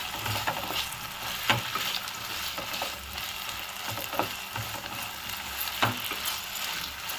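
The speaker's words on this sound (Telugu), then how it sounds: "ఆలుగడ్డలు ఫ్రై చేసుకుందాం మనము." Potatoes sizzle and crackle steadily in a pan of oil while being stirred, with scattered scraping clinks of a spoon against the pan and no talking.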